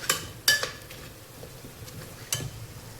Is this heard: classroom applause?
no